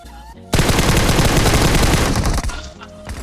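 Gunfire comes in from the right in a battle royale video game: a loud, dense burst of rapid automatic shots after a brief quieter lead-in, close and harsh, then tapering off.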